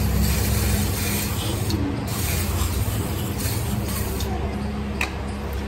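Steady hiss of WD spray cleaning parts of a KTM Duke 390 motorcycle during a home oil change, a continuous close spray lasting throughout.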